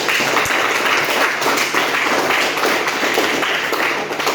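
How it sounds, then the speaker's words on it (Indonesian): Students in a high school classroom clap for a presenting group, a dense, steady patter of many hands that holds for several seconds at fairly close range with no speech over it. "tepuk tangan untuk kelompok 3"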